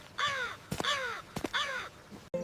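A crow caws three times in an even rhythm, loud and close, with quiet gaps between the calls.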